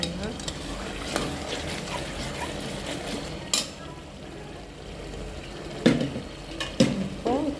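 Onions and tomatoes fry in oil in a pan, a soft continuous sizzle close by, broken by occasional sharp scrapes and clinks of stirring against the pan.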